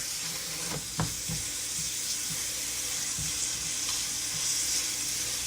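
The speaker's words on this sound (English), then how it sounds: "So the turkey is browning up pretty nicely." Ground turkey browns in a pan for turkey chili, a steady close sizzle and crackle with a few scraping stirs throughout.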